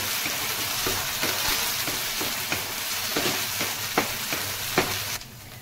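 Soaked sabudana stirred and fried in a pan crackles with a steady sizzle, broken by regular scraping strokes of a spatula roughly every half second, then cuts off abruptly near the end.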